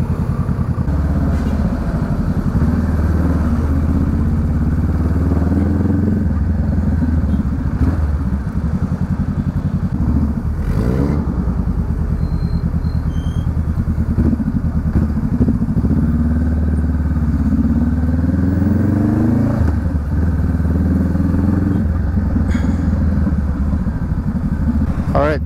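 A Honda Rebel 500 motorcycle rumbles through heavy traffic on EDSA. Its engine drones steadily at close range with wind buffeting and road clatter, and a voice talks over it now and then.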